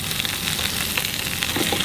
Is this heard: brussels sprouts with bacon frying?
yes